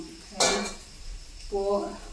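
Pots and dishes in a home kitchen in Malappuram, a single sharp metallic clang followed by a softer ringing clatter, close by and fairly quiet, with a brief voice-like sound near the end.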